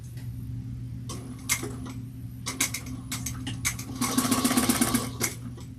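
A sewing machine back stitching a bowler bag divider, several short bursts of rapid mechanical whirring with clicks between them, ending in a longer, louder run of stitching, close by and with no talk.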